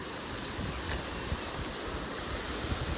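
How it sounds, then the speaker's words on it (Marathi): The Ranpat waterfall, reached on a jungle trek, gives a steady, fairly faint rushing roar that runs evenly for a few seconds with no voices. "तुम्हाला दाखवतो धबधबा, धबधबा दाखवतो रानपाटचा"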